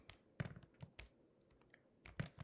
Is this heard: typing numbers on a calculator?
yes